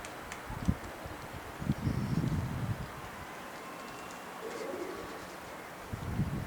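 Soft low coos from a tumbler pigeon come in a few short bursts, near but quiet, with faint rustling and ambient noise between them.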